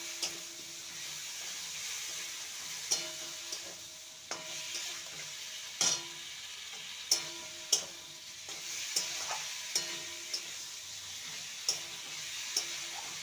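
Potato and ridge gourd sautéing with spices in a pan, a faint steady sizzle broken by a dozen or so sharp scrapes and clicks of stirring spread irregularly throughout.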